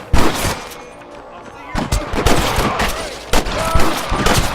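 Rapid gunfire from a Wild West shootout in Red Dead Redemption: sharp cracks and overlapping bursts, some close and some farther off, with brief lulls between volleys.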